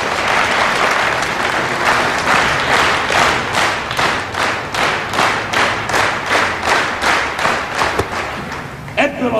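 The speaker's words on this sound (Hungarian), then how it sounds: "Tapsolj meg, pajtások!" Sustained, loud applause from a crowd at a costumed New Year's Eve pioneer troop gathering, steady clapping with rhythmic surges throughout.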